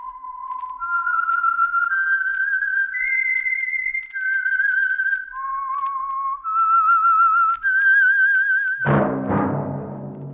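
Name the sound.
whistled theme of The Whistler radio program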